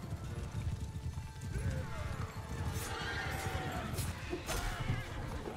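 Horses in a battle in the video game Mount & Blade II: Bannerlord neigh amid hoofbeats and clashing combat noise, with a few sharp whinnies standing out over a dense, continuous din.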